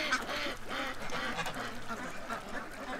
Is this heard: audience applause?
no